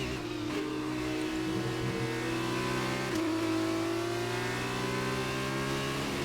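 A Formula 1 car engine in a racing video game drones steadily around the Suzuka circuit, holding a loud, sustained high-revving whine with brief gear-change dips and no pauses.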